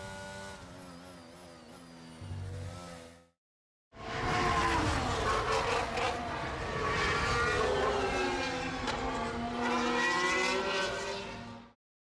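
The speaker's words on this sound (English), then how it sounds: "Booted hard towards the line with the DRS open, across the line, and that is a lap of Monte Carlo." Formula 3 race car at the Monaco street circuit accelerating hard across the finish line with DRS open, a loud rising engine scream after a brief gap, then fading away.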